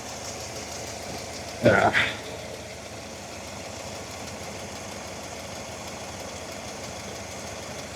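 A Volvo 240 engine idles with a low, even, ticking rumble throughout, broken early by a short spoken word.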